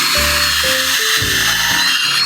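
A power drill whines and grinds in several short bursts as it drills through two wooden boards, its motor pitch shifting as it bites in, with a steady hiss throughout.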